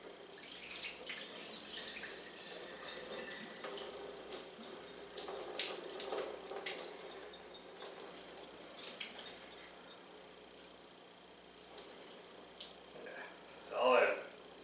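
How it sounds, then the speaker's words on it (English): Hot water splashes as it is poured off potatoes from a glass bowl, a steady close running pour with a louder gush near the end. "Maybe I'll pour off some of this water first."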